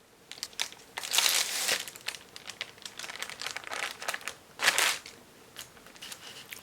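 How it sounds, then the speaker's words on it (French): Baking paper crinkling and rustling as a Nesquik chocolate sponge cake is rolled up and wrapped in it, irregular close-up crackles with louder bursts among softer handling noises. "on referme donc la génoise dans son papier cuisson"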